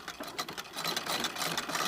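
A treadle sewing machine stitches fabric with a steady, fast mechanical whir and rapid needle clatter, close and continuous without a break, set to a slightly longer stitch length.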